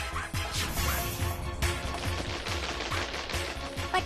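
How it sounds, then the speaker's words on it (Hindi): A string of firecrackers bursts in a cartoon scene, rapid crackling pops tumbling one after another in a dense, loud, irregular volley that keeps going for several seconds. "वो शेरू की पूंछ पे लड़ी बांधना चाहते हैं।"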